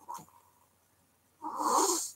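A little dog makes a short, harsh honking snort after drinking water, one faint catch at the start and then a louder, raspy honk near the end, close by with no talk.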